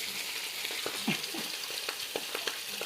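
Loud, continuous sizzling of a large fish fried in a wok, dense hissing crackle up close with scattered spatter pops and faint stirring scrapes throughout.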